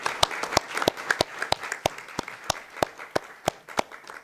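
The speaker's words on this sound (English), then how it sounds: "I do want to take a moment to give them a round of applause for working so hard" Sparse applause at a school board voting meeting: a few hands clap in distinct, fairly evenly spaced sharp claps, about fifteen over four seconds, crisp and close against a quiet room.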